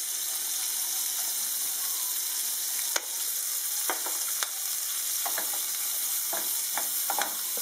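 Food sautéed in a pan with paprika over medium heat, a steady broadband sizzle with scattered sharp pops and clicks of stirring, close and fairly loud, with no voices.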